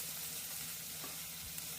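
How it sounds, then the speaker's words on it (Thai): Sliced cabbage and crispy pork stir-fry in a pan with a steady, soft sizzle and faint stirring scrapes, continuous and close, with no talking. "ใส่กระหล่ำที่เราหั่น ลงไปผัดให้พอสุก"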